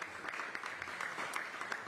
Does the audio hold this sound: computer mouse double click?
no